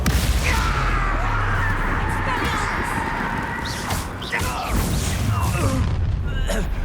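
Confringo, the fiery explosive spell from Hogwarts Legacy on PS4, lands as booming blasts and bursts over a dense wash of battle noise and game effects, with a voice calling out.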